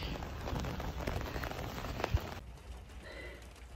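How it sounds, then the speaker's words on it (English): Much-needed rain falls during a storm with smoke and fires nearby, a dense steady patter at moderate distance that thins and softens partway through. "This is much needed rain."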